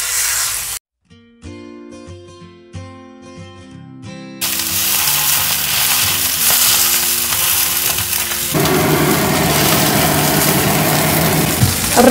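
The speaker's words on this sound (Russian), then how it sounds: "Далее рыбу я буду жарить на гриль-сковороде." A loud, steady sizzling hiss of fish frying on a grill pan fills the second half, following a short stretch of quiet music with scraping sounds.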